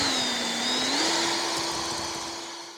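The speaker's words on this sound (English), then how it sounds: "I'm just going to go through with this hone-in tool just to make it a little bit smoother inside" A honing tool spins inside an engine cylinder during a Velosolex engine rebuild, a steady close whirring drone whose pitch steps up slightly partway through, with no talking.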